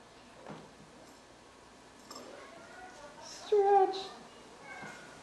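A single clear meow from a nearby cat rises midway, with faint soft voices and quiet room sounds around it.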